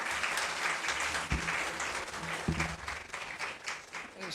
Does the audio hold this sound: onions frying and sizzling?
no